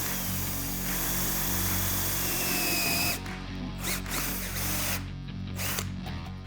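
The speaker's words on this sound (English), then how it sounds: "So I'm going to take my cordless drill, and I have a hole saw that should do the trick" A cordless drill fitted with a hole saw bores a hole for a homemade dust collector built from household items. It whines loudly and steadily for about three seconds, then runs in shorter bursts with brief pauses, close up.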